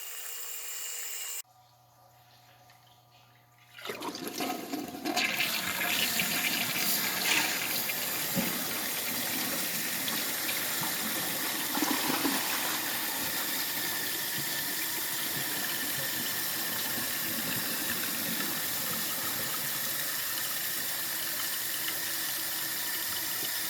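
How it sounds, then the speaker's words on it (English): A toilet flushes during a test after a stoppage was cleared, a sudden rush of water that settles into a long, steady gush of refilling close by, with no talk over it. "now we're ready to give it our 3-flush test"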